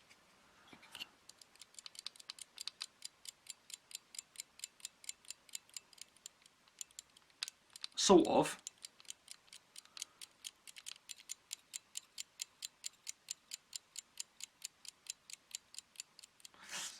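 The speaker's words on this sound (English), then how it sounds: "In fact, if I shake this one, I should be able to get it ticking." A Sangamo spring reserve time switch, shaken to start it, ticks in a steady, rapid, close-up rhythm, interrupted midway by a loud rattling knock from the handling. A voice briefly speaks near the start.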